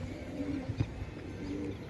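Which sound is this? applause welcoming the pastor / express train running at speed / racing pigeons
racing pigeons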